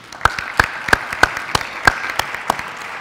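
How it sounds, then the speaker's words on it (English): A small audience at a school parent-night panel on substance abuse claps, sparse, separate handclaps spaced through a few seconds, fairly close and unaccompanied by talk. "a round of applause to them before we get started"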